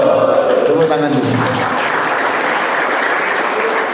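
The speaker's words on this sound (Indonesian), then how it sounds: "Tepuk tangan dulu." An audience at a birthday celebration for the Indonesian president claps and cheers steadily throughout.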